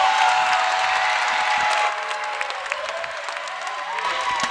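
A crowd at a gymnastics championship applauds in a dense wash of clapping that fades a little while some cheering rises, with a commentator talking over it.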